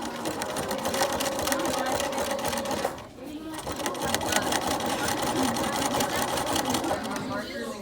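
A sewing machine stitches over the edge of a pillowcase, a close, rapid rhythmic clatter that pauses briefly midway and then resumes, with a voice talking over it.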